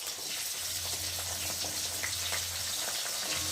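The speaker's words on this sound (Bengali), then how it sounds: "এখানে পেঁয়াজ আর লঙ্কা দিয়ে ভালো করে ভেজে নেব।" Onions and green chillies frying in hot oil, a faint, even sizzle with a low steady hum beneath, continuous throughout.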